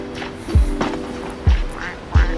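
A duck quacks three times, loud and close, with short pauses between calls over faint background noise.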